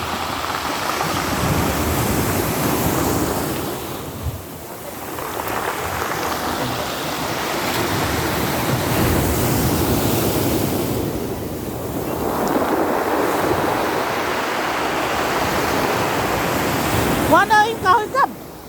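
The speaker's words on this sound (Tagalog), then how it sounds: "ang laki ng alon dito sa amin mga lods oh. Tingnan nyo yung mga alon" Big ocean waves breaking on a provincial shore, a continuous roar of surf swelling and easing in long surges with wind buffeting the microphone, and a voice talks over it.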